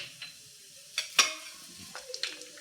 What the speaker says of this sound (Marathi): आता तूप छान गरम झालं की त्यामध्ये एक चम एक चमचा जिरे घालून घ्यायचे आहेत